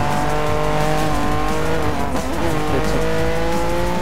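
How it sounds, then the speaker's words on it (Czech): A car in the 2012 Need for Speed Most Wanted racing game screeches its tires under a loud engine roar, a sustained squeal that wavers slightly midway and fills the whole span without talk. "A nejdřív to zahřejem pořádně, to auto. Pořádně mu zahřejem gumy a tak."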